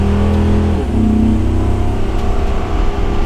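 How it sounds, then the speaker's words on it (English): Thor A.C.E. 30.1 motorhome with a 362-horsepower engine pulling away from a stop, a close, loud mid-pitched engine note climbing as it accelerates, with steady road rumble beneath. "We're going to accelerate up."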